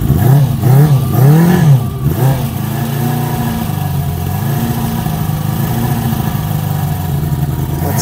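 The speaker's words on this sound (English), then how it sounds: "Crack the throttle a little bit." A 1973 Honda CB350 Four motorcycle engine revs in several quick throttle blips at first, then settles into a steady, loud, close idle.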